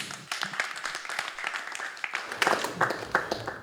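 An audience at a combat sports press conference claps in a steady stream of applause, growing louder with sharper individual claps near the end, while people talk underneath.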